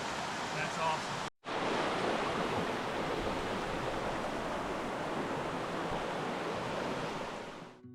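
Creek water flows steadily and fairly close in Noland Creek in the Great Smoky Mountains, a broad continuous rush that cuts out briefly near the start and then runs on unbroken.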